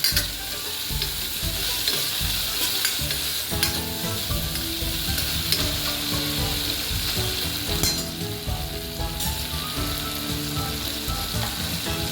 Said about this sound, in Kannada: ಈಗ ಟೊಮೆಟೊ ಹಾಕ್ತೀನಿ.